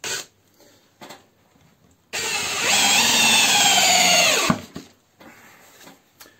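A Parkside Performance PSBSAP 20-Li A1 cordless hammer drill in drilling mode bores into a board, a loud steady whir of about two and a half seconds that rises slightly in load, then stops, with quieter handling noises before and after.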